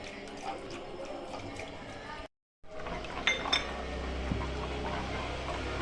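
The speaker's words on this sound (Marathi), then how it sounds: "थोडं थोडं मसाला टाकायचा आणि हलवत राहायचं" Clinks and light scraping of a spoon in a pan as masala is stirred into Manchurian gravy, with faint liquid sounds and a brief gap midway.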